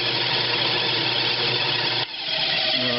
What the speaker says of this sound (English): So I'll take an air hose and blow in these nooks and crannies and blow everything out.